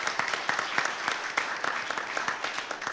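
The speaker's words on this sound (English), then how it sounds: "let's give it another round of applause for Future Road Elementary School as our August spotlight." Audience applause at a school board meeting honoring an elementary school, a steady wash of many hands clapping in a room, moderately close and continuous throughout.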